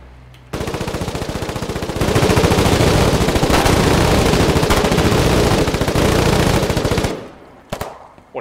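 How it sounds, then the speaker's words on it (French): Machine gun fire from the war game Foxhole: a close, loud, rapid burst that rattles on for several seconds, grows heavier midway, then cuts off, followed by a couple of brief shots. "Oh, y'a la sulfateuse!"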